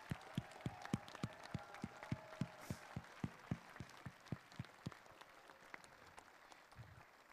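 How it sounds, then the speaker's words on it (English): A student audience at a state robotics championship opening ceremony claps for mentors and coaches, the sound a quiet, evenly spaced run of claps that thins and fades toward the end. "students, I want you to give them the biggest round of applause you can"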